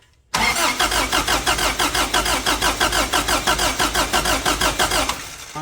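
A 1984 Toyota pickup engine cranks in a steady rapid rhythm for about five seconds after a sudden onset, close and loud, then catches and drops toward idle at the end; no talking.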